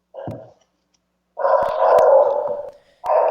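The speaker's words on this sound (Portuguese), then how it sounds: "Com o latido do cachorro do ministro lá no fundo" A dog barks in bursts in the background of an interview, one short bark, then a long sustained stretch of barking, and another burst, loud and close.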